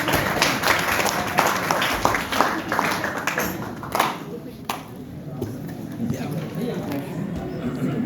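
Audience applause fills a university hall during a drama club event, a dense, steady wash of clapping with a speaking voice running over it throughout.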